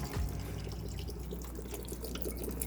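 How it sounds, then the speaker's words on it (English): A bottle of water is poured into a sauce, giving a soft, continuous liquid trickle and splash, close and fairly quiet, with no voices. "I refilled this with water, so 1 bottle of water is now being added."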